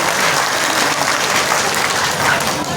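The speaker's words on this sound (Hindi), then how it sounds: "उनके लिए एक बार ताली बजा दीजिए भाई, दो ताली बजा रहे।" Crowd at a political gathering in Munger, India, clapping for an enthusiastic supporter: a dense, continuous wall of applause from many people, loud and even throughout.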